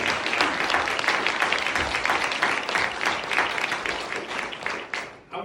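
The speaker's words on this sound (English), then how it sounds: "Please give them another round of applause" An audience claps warmly for a civil rights group in a full, sustained round of applause with faint voices mixed in, tapering off near the end.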